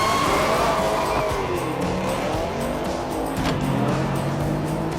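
A car launches hard using launch control on a race track, its engine roaring loudly and continuously with rising pitch and a shift between gears.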